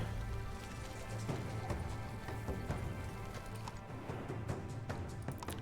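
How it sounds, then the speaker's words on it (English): The giant beast in The Wandering Village walks with a steady run of thudding footfalls, regular and fairly faint, under a constant hum of background game sound, with no voices. "in the background, you can hear the footsteps of the beast"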